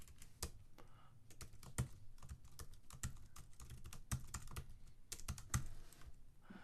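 Keys clatter on a computer keyboard in a burst of quick, irregular taps, each one crisp and near, with short pauses between runs and no voices.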